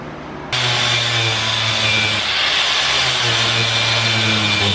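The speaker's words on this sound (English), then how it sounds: "The bump stops are all flappered away." A flapper wheel on a power grinder whines loudly and continuously, grinding down car bump stops, starting abruptly after a short quiet moment and holding a steady pitch with slight load changes.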